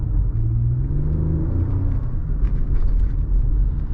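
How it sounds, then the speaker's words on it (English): The V6 engine of a 2018 Toyota Highlander XLE hums in a low, steady rumble from inside the cabin while driving, smooth and continuous with mild swells in pitch. "I like the power of this V6."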